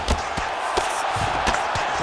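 Virtual arena crowd in EA Sports UFC during a Brandon Moreno vs. Kyoji Horiguchi bout, a steady broadband murmur from the stands reacting to a strike from the bottom fighter, punctuated by several sharp thuds and impacts, with faint talk in the mix.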